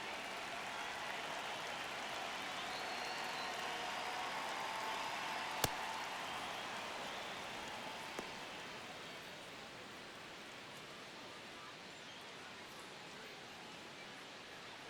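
Steady, fairly quiet crowd murmur and cheering fill a baseball stadium in the MLB The Show video game, an unbroken wash of noise with a couple of sharp ticks partway through.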